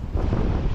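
Strong gusty wind roars steadily across a farm plot of vegetables and chili plants after a typhoon, a dense low rumble buffeting the microphone throughout with no voices.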